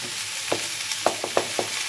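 Cumin seeds sizzle in hot oil in a pan while a utensil stirs them, producing a steady frying hiss broken by five or six sharp, close scrape-clicks, with no talking.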